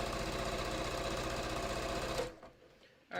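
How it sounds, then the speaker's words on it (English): A sewing machine stitching quilted batik fabric runs in a fast, even mechanical whir close up, then stops abruptly and leaves a quiet tail. "I'm going to sew them into a circle"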